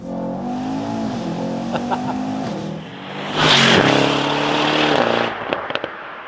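A Mercedes E63 with a 4-litre twin-turbo V8 revs and accelerates close by with a deep growl, then sharp popping and crackling bursts from the exhaust.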